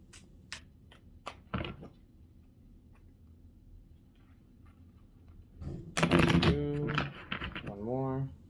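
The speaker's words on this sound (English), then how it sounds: "I'll do 3 shuffles on this one." A quick riffle of tarot cards near 1.5 s, followed later by a louder burst of shuffling with a voice speaking over it.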